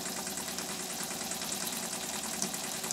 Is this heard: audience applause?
no